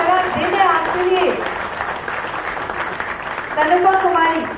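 An audience applauds at an official ceremony in Ranchi, a steady wash of clapping with a voice speaking over it at the start and end.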